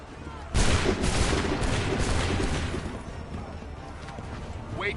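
A musket volley in Assassin's Creed III Remastered erupts as one loud, crackling burst of massed gunfire, then trails off into a long, gradually fading rumble.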